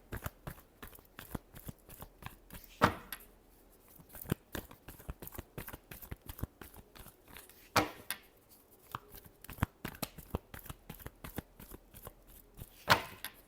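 A deck of tarot cards being shuffled again and again, with quick rustling riffles and sharp snaps falling in a fast, uneven rhythm close by, the sound louder in places and otherwise steady the whole way through.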